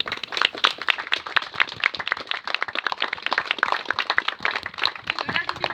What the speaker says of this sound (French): je vous demande s'il vous plaît de les applaudir